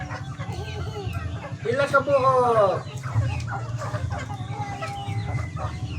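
Chickens kept as pets cluck steadily around a farmyard, with a rooster's crow rising clearly in the middle, while a person speaks over and between the calls.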